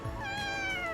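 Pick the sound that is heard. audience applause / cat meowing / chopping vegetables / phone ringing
cat meowing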